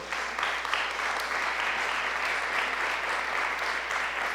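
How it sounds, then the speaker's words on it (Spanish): Sustained applause from a church congregation in worship, steady and dense for the whole stretch with no talking over it. "Dale un aplauso al Señor por eso"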